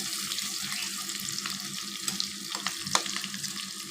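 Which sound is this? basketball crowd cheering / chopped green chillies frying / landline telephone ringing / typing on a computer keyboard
chopped green chillies frying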